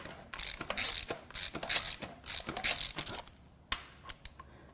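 A 1.0 EcoBoost three-cylinder engine from a 2016 Ford Focus, spark plugs removed, turned over by hand, giving close ratcheting clicks and rhythmic breathy puffs of air blowing from the plug holes, no talking.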